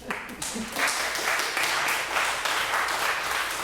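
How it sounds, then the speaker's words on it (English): Audience applause at a violin masterclass with Erica Kiesewetter, a dense, steady wash of clapping that builds quickly and continues at an even level. "So a round of applause"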